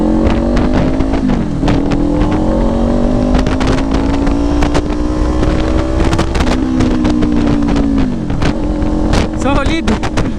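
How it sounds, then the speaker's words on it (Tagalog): A 2024 Kawasaki Ninja 500 SE motorcycle engine pulls hard under acceleration, a loud whining drone that climbs in pitch, dips at gear changes and climbs again, with heavy wind rush over the microphone throughout. "Parang umiiyak yung makina pero tuloy-tuloy pa rin yung speed niya"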